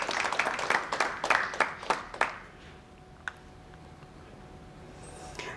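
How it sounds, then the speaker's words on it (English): A small audience at an annual general meeting claps in a short, uneven burst of distinct hand claps that quickly thins out, leaving a quiet room with a faint hum and one stray tap. "So a huge round of applause for both our patrons."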